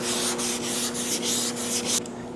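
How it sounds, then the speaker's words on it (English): Steady back-and-forth sanding on a car body panel during primer prep, loud close rhythmic rubbing strokes in even passes that stop abruptly near the end. "we're gonna be sanding, starting at the end of the panel, all the way up to that body line"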